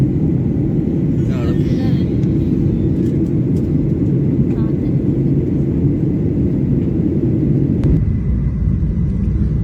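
Inside an airplane on a Dubai to Mangalore flight passing through clouds, a loud, constant low engine and cabin rumble drones without letup, with faint voices in the background.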